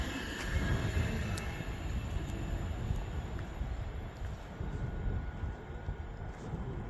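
A train running on the West Coast Main Line at Rugby station gives a steady, broad rumble with high-pitched rail whine and faint squeals, continuous and fairly distant.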